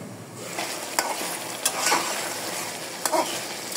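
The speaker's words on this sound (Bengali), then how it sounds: "মাংস কষানোর জন্য একটু পানি দিয়ে দিলাম" Beef being sautéed and stirred in a pan with a little water added, a continuous sizzle broken by a few sharp scraping stirs of a utensil, close and fairly loud.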